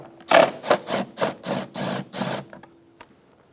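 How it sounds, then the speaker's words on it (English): A 10mm socket wrench loosening air box bolts on a Toyota Camry, a rapid series of about eight ratcheting clicks in quick succession, close and distinct, then quiet. "Using a 10mm socket, remove the two bolts on either side of the air box."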